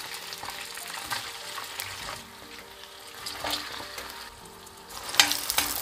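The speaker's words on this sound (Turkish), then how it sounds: "Şimdi soğanı kızartacağız." Onions sizzle in hot oil that has absorbed beef juices, used before to fry potatoes and meat for a saucy Turkish steak dish; steady close crackling frying with occasional stirring clatter, no voices.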